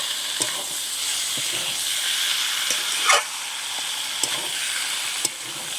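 Meat mixed with spices sizzles and fries in a pan as it is cooked down for a Bengali kosha mangsho curry, giving a steady close hiss with occasional stirring clinks and scrapes.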